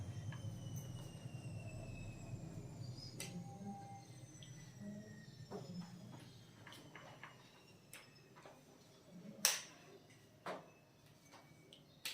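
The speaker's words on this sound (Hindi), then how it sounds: "ट्रेन चल रहा है ट्रेन जैसा है।" A running train: faint rumbling and rattling of wheels with thin squealing tones and a few sharp clanks, steady at a distance without talk.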